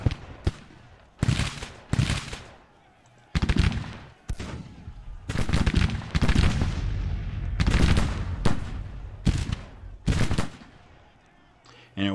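Massed musket volleys from hundreds of infantrymen in a Grand Tactician Civil War battle, crashing out as repeated loud bursts of rolling gunfire separated by short lulls, with no speech.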